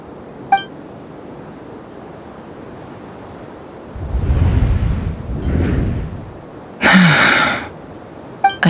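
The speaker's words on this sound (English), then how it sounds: "I heard Yehuda gasp" A gasp from a character in the video game Genshin Impact, a short sharp intake of breath near the end, following softer breathy rustling over steady background ambience.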